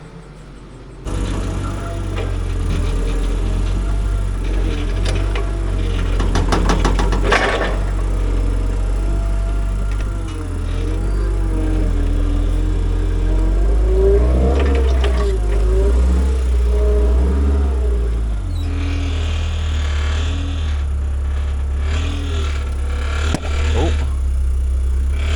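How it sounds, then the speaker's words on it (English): A forklift engine runs with a steady, low rumbling drone that lasts throughout, while mechanical clanks and shifts in engine tone come through up close. "so get the forklift out."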